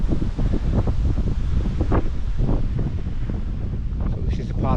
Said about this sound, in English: That wind's not helping.